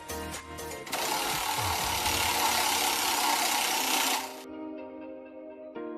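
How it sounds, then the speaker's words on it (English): A color picker wheel spun for a marker challenge makes a steady, close whirring rush for about three seconds, then cuts off to near quiet with a faint hum and a final tap. "Now let's spin the wheel again."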